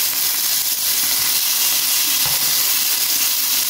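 Fish fries in a pan with a loud, steady, continuous sizzle and hiss that runs unbroken throughout, with no voices.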